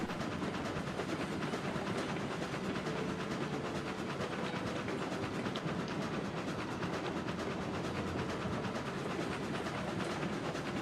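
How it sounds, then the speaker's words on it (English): A train rumbles steadily along the rails with a dense, continuous roar and faint rhythmic clatter, close and loud throughout. "amazing how fast the train goes when it doesn't have"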